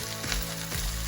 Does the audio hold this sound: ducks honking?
no